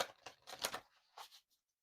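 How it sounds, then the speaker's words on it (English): Oracle deck of the Shaman Dream Oracle being shuffled by hand, a quick run of papery riffling bursts close up, then a short final flick before falling silent. "One more shuffle."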